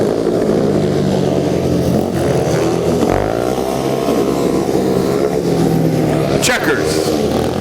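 Harley motorcycles racing on a track at IMS during a Harley night event: a loud, continuous engine drone with rising and falling pitch sweeps, and an announcer talks over it throughout.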